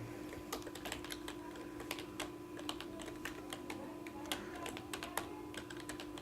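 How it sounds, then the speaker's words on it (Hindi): Rapid, steady keystrokes on a computer keyboard while typing Urdu text, with light clicks in an irregular patter over a faint hum, no talking. "उर्दू टाइपिंग कैसे करते हैं देखते हैं"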